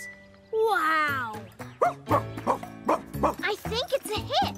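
A cartoon dog barks in a lively, rapid series of yips and woofs, loud and close. An excited voice rises at the start.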